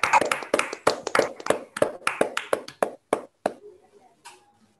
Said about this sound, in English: You can just unmute your mics and clap.